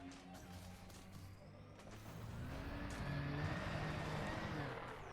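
A surface vehicle rolls away over rocky ground in Elite Dangerous, a steady low engine drone with rumbling and scraping that grows slightly louder midway, alone without talk.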